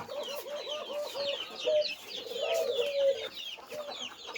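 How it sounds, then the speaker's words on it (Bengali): Desi hens with chicks cluck steadily, with repeated short clucks and scattered high chick peeps overlapping across several seconds, moderately quiet and close by, no speech. "এখানে আমার আছে বাচ্চা সহকারে কিছু দেশি মুরগি"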